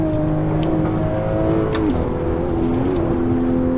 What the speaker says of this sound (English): A good downshift into third there, just to make sure that we're right at the top of the power range as we come back on the power.